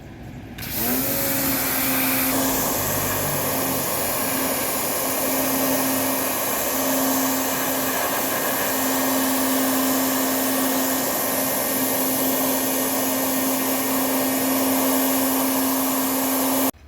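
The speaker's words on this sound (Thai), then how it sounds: "เดี๋ยวเราจะฉีดล้างทำความสะอาดให้ค่ะ" A pressure sprayer washes the air conditioner condenser of a Toyota Mighty X, a loud, continuous hissing roar with a steady motor whine that runs unbroken for the whole stretch, close up and without talk.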